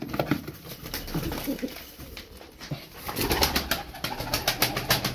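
Domestic tumbler pigeons coo repeatedly in a loft, a close, continuous chorus of soft throaty calls with rustling and occasional wing flutters, no talk.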